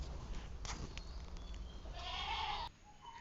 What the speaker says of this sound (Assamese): বাহিৰত ছাগলীয়ে চিঞৰি আছে